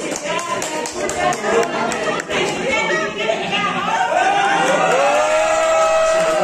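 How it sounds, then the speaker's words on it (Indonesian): Audience applause at a coordination meeting, scattered clapping mixed with crowd chatter and voices, moderately loud and uneven. "Tepuk tangan."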